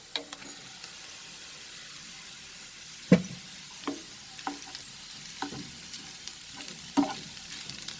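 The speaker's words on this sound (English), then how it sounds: "So now I will saute it for another 1 minute" Mixed vegetables for veg fried rice sauté in a hot pan, a soft continuous sizzle punctuated by irregular spatula scrapes and clanks, close and clear with no voices.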